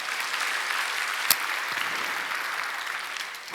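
Church congregation applauding during a Wednesday worship service, a dense, even clatter of many hands lasting several seconds, with one sharp louder clap standing out.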